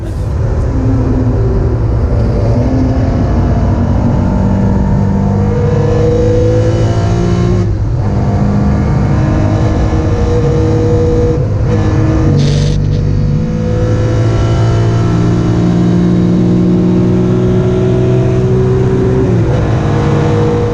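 A 1936 vintage car engine runs loudly and continuously, its pitch rising and falling as it revs, with no voices.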